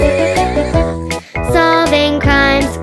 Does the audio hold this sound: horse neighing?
yes